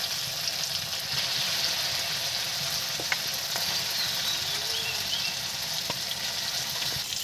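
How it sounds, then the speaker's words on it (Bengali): Chicken pieces frying in oily spice masala, a steady broad sizzle close up with occasional light taps of a stirring spoon, no voices. "মশলাটার থেকে তেল ছেড়ে দিয়েছি, এবার দিয়ে দেবো মাংসটা। এবার মাংসটা ঢেলে দেবো।"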